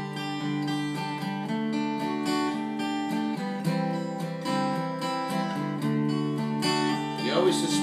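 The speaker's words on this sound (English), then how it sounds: "Now it's kind of a pretty strum. I kind of go back and forth on the strings there." Acoustic guitar strumming the chords of a song in a gentle back-and-forth pattern across the strings, steady and close, with ringing sustained chords and no talking.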